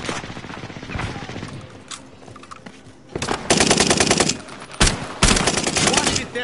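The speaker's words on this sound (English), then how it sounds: "We're taking fire. They're shooting me." Enemy soldiers fire on the player in a Call of Duty video game, sounding as rapid machine-gun bursts and loud shots that build to heavy volleys toward the end.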